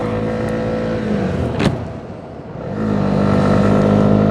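A 2021 Honda CB125R motorcycle just past break-in revs and accelerates close by, engine tone climbing, dipping briefly, then holding a loud steady drone.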